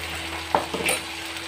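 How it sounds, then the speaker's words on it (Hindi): Onions frying in a pan with ginger-garlic paste just added, a soft close sizzle with a couple of brief stirring scrapes, quiet and short, no voices. "एक मिनट इसे फ्राई करेंगे।"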